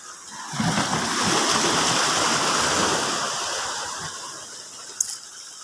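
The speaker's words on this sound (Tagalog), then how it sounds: "Lakas ng tubig guys oh. Grabe lakas ng tubig ah." A strong current of water rushes loudly and continuously nearby on a fishing outing, swelling in the middle, with a brief knock near the end.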